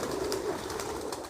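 Pigeons coo softly around a village house as they settle down to feed, a low, steady murmur of calls running through the whole moment without any talking.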